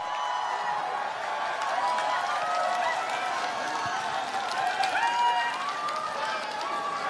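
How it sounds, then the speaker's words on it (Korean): Large outdoor crowd at a Busan political campaign rally applauding and cheering to welcome a history lecturer, dense sustained clapping with whoops and voices throughout, steady and loud. "뜨거운 박수로 환영해 주십시오."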